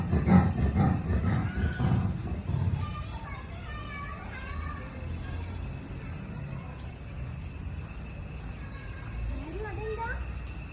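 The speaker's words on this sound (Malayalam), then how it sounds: "പുള്ളിപ്പുലി ഇങ്ങനെ സൗണ്ട് ഉണ്ടാക്കുക" A leopard calls out at Thrissur Zoo, its rough grunting roar heard at a distance amid crowd chatter and children's voices that dominate the opening seconds.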